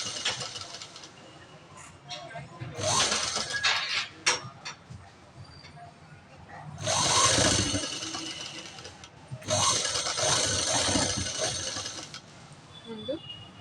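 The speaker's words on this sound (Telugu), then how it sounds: "దీన్ని అయితే స్టిచ్ చేసుకుంటాను." A sewing machine stitching a blouse runs in several bursts of rapid mechanical rattling, with quiet pauses between them and faint talk in the background.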